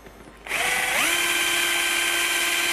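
A power drill spins up and whines steadily while boring holes into a motorcycle seat, its pitch rising at first then holding a loud, close, continuous tone.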